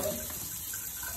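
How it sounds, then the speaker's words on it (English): Tap water runs steadily into a sink for making oobleck from cornstarch and water, a continuous close hiss and splash with no pauses. "I'll open the water."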